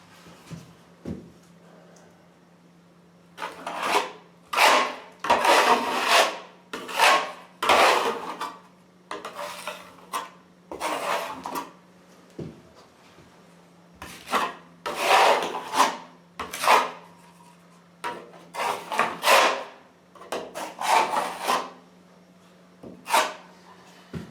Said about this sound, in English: the mixed polyfilla and also plastering trowel that I'm going to apply the polyfilla